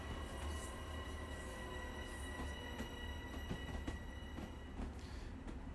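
A Long Island Rail Road train braking on the approach into Jamaica in Train Sim World 2, with a steady loud rumble, high brake squeal and scattered clicks of wheels over track.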